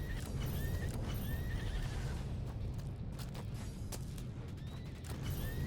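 In the video game Hobby Horse, a horse whinnies a few times over a continuous, quiet clatter of hooves, with dense background game sound throughout.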